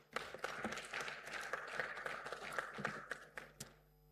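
An audience claps after a keynote address at a national safe motherhood conference, a faint, steady patter of many hands that fades out at the end.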